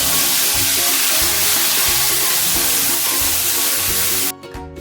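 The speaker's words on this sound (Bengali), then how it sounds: "মশলাটা ভাজা ভাজা হয়ে গেল" A spice paste of ground ginger, cumin, garlic, onion, tomato and dried chilli frying in oil for a crab and potato curry gives a loud, steady sizzle that holds throughout and cuts off abruptly near the end.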